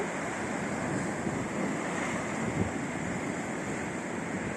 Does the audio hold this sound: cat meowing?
no